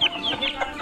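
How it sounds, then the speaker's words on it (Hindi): Chickens cluck on a small Indian farm that also keeps goats and ducks, with a quick burst of close, fairly loud hen clucks and squawks. "मुर्गी पालन"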